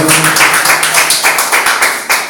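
A church congregation claps in steady rhythm during a Sunday worship service, the sharp claps repeating evenly and filling the room, with faint voices beneath.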